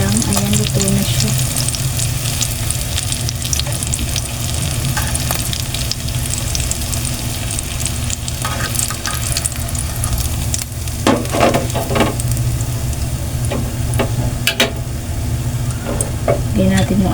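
Okoy na dilis, anchovy fritters, frying in a pan of hot oil with a steady, loud sizzle that runs the whole time, and a few sharp clicks and scrapes from stirring or turning partway through.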